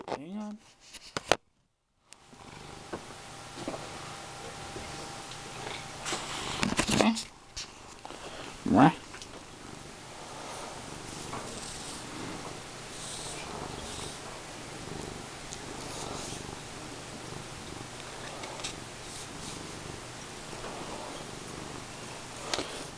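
A cat purrs steadily while rubbing and scratching on a furGOpet cat scratcher, with scratchy rustling bursts rising partway through over the low continuous purr and a voice heard at times.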